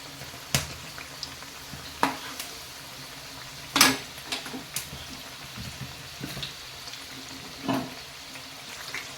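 Sweet corn pakoda frying in a pan and being flipped one by one, with scattered sharp metallic clinks of a utensil against the pan over a soft, steady sizzle. No one speaks.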